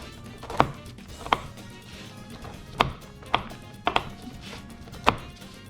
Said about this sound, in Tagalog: You can chop this a little.